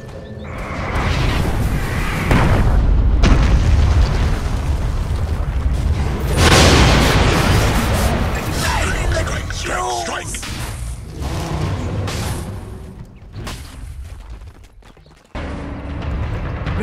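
Dota 2 match with a tower under attack and falling: dense, loud game-effect bursts, booms and whooshes layered with hoof-like clatter and clashing action sounds, continuous throughout with a sudden drop and return near the end.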